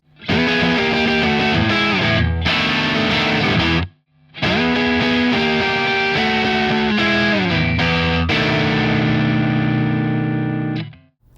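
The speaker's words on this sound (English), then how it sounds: "The turnaround sounds like this." Heavily distorted electric guitar plays a 12 bar blues turnaround, loud and close with sustained chords and note runs, two brief pauses between phrases, and a long ringing final chord.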